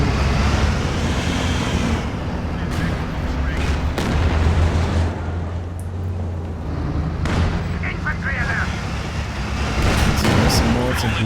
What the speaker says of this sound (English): So there's some mortar here.